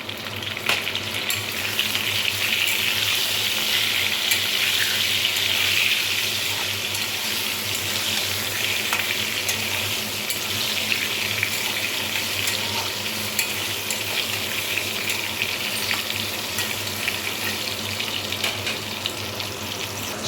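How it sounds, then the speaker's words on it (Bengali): Pieces of pointed gourd (potol) fry in oil with a little turmeric until reddish, giving a steady, close sizzle that runs without a break for about twenty seconds, with no talk. "লাল লাল করে পটলগুলো সব ভেজে নেব"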